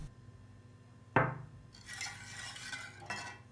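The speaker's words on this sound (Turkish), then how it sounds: "Karıştırarak ocakta pişirelim." A spoon strikes a pot once, then stirs with a soft scraping swish as sugar, starch and flour cream cooks on the stove, close by and fairly quiet.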